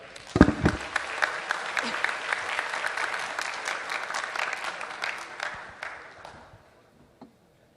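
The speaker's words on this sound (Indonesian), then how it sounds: "Tepuk tangan dulu dong" An audience at a networking conference claps after a presentation: a sharp start, then a sustained crowd applause that gradually thins and fades out, ending with one last lone clap.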